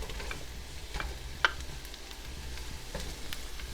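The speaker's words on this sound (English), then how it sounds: "Starting to sizzle nicely." Steady, quiet frying sizzle of vegan sausage in a pan, with soft crackles and one brief sharp tick partway through; no voices.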